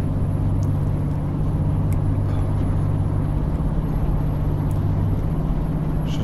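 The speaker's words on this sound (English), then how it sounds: "Tell what, the Scania don't half know how to climb." A Scania truck's engine labours up a climb through hills, a steady, loud, low droning rumble heard from inside the cab with no voices.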